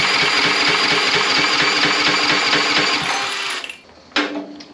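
A repaired generator engine that had been surging runs steadily and loudly close by with a constant droning pulse, then cuts out near the end and a brief sharp burst follows before it fades.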